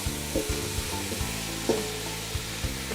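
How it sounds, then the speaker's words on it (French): Half a cabbage added to a hot pan of browned lardons over lowered heat, giving a steady, close sizzle and fry hiss with occasional soft stirring knocks and scrapes, no voices. "Là, je baisse un peu mon feu et j'ajoute le chou."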